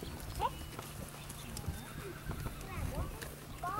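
Horse hooves clip-clopping at a halter showmanship class, a faint steady rhythm of steps under a murmur of people talking in the background.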